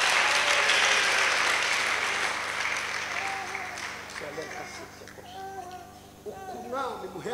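A church congregation claps enthusiastically for Jesus during a prayer and fasting service, a loud dense burst of applause that gradually fades as voices begin speaking over it.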